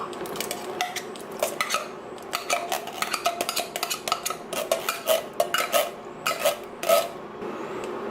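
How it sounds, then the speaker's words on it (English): Canned ingredients are stirred into a pot of vegan chili, with a spoon clinking and scraping against the pot in close, repeated strokes and no one talking. "Give it a little stir."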